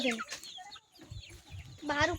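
Chickens with chicks clucking in short, quiet bursts near the microphone, with soft scratching and movement around them.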